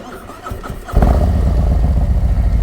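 A 2023 Harley-Davidson Street Glide ST with a 135ci Fast Johnnie engine cranks with a brief starter whir, then fires into a loud, deep, lumpy idle that rumbles on steadily up close.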